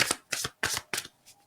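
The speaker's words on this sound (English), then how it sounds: "Final shuffles, please, Spirit." Tarot cards are riffle-shuffled in four quick close bursts of crisp fluttering, then a fainter fifth, with no talking.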